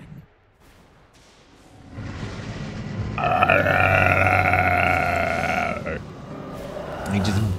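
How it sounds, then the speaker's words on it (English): Ganon, the pig-like villain of The Legend of Zelda: Breath of the Wild, lets out a long, deep, rumbling belch that swells and holds for several seconds before trailing off. "He just belched all over Hyrule."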